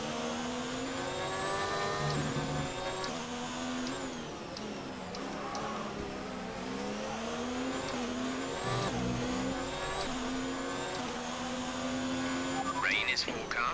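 Formula 1 race car engines in the F1 2019 game whine and rise through the gears, with the sharp pitch sweeping up and down through shifts and braking, loud and continuous, with a brief tire squeal near the end.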